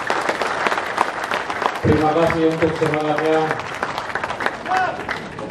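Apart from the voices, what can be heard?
applause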